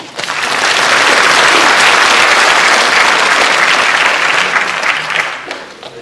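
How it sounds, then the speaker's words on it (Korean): A rally crowd applauds Vietnam War veterans, a swell of many hands clapping that builds quickly, holds loud and full, then tapers off near the end. "이 역전의 용사들을 위해서 박수 한 분."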